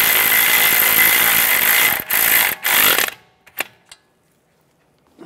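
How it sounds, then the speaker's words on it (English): A socket ratchet tightening a nut on camber bolts of a 2011-2015 Chevrolet Cruze gives a loud, steady rapid clicking for about three seconds with brief breaks, then a few isolated clicks before falling quiet. "using a 14 millimeter wrench and a 15 millimeter socket, tighten the nut down"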